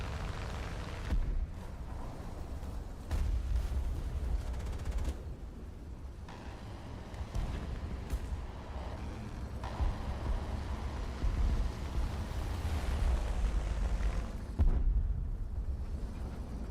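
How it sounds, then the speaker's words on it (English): Bombs exploding around a player's tank in War Thunder, a series of heavy booming blasts and rumbling impacts spread across the battle, loud and continuous with sharp peaks. "Am I getting bombed again?"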